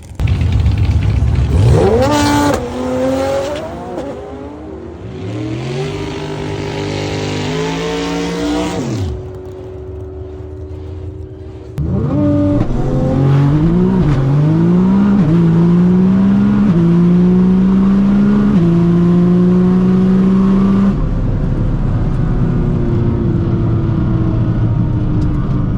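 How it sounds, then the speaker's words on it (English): A 1700 WHP Nissan GT-R doing a burnout: loud, close engine revving in rising and falling sweeps, long sustained high-rpm roar with tire noise, no talking. "That burnout was way better."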